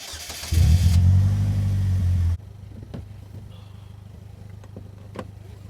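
A Polaris Slingshot SLR three-wheeler rumbles loudly up close, its engine revving for a couple of seconds before the sound drops away sharply to a faint distant idle.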